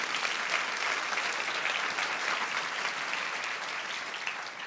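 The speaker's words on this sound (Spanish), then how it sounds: "Dale otro aplauso a Jesús con todo tu corazón." A church congregation applauds together in a dense, even wash of clapping that keeps a steady level for several seconds, with no voices standing out.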